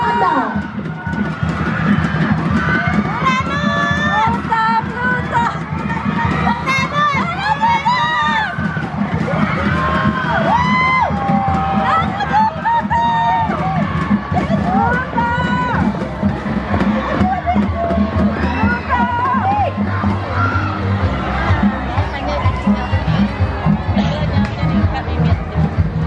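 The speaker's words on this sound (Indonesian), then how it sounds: "Sila berikan sorakan Anda." A crowd cheers and shouts continuously at a school 200 m final race for under-15 boys at a sports meet, loud, dense and close, with people talking and calling out throughout.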